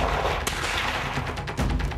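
Gunfire sound effect in a Hindi TV news report about police firing shot after shot from a field, heard as loud, dense bursts of cracks over a rumbling bed, with a sharper hit near the middle and another toward the end.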